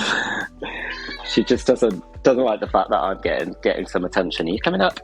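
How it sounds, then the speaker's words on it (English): A domestic cat meows repeatedly from close by on the floor, short chatty calls that alternate with a woman's speech. "she's very chatty, and she's down here like on the floor, meowing away"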